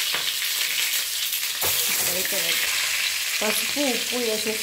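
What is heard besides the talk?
eggs frying in hot oil in a kadai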